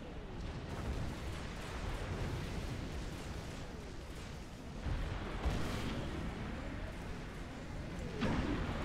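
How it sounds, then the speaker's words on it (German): Dense rumbling blasts and booming bursts from the strategy game Supreme Commander: Forged Alliance roll continuously, with a few louder explosive hits standing out over a constant roar. "Hier ist einfach irgendwas explodiert bei mir."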